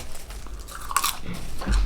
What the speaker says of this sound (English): A rice cake little combo in there just adds a little bit more of a crunch to it.